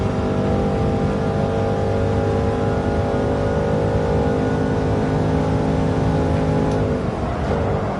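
De Tomaso race car in Gran Turismo 7 at Monza, engine held at a steady high-rpm drone against the rev limiter, loud and continuous for most of the stretch before the pitch drops near the end.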